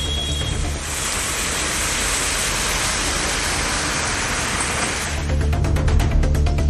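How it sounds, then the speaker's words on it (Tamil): Steady light drizzle falls across roads around Tindivanam and Kootteripattu in Villupuram, with motorists riding through it; a continuous even hiss of rain, close and constant, with a slightly busier patter toward the end and no voices. "சாரல் மழை பெய்ததால் வாகன ஓட்டிகள் மழையில் நனைந்தவாறு பயணித்தனர்"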